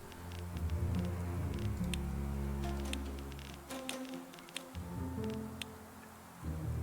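Bees buzz in a continuous low drone in the video game Reus 2, with scattered soft ticks and clicks from the game over the top; the hum dips partway through, then returns.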